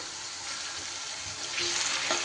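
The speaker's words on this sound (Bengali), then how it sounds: "আলুগুলো একটু ভাজা ভাজা করে নিতে হবে" Potatoes fry in a pan with a little salt, giving a steady, close sizzle that swells slightly toward the end, with no talking over it.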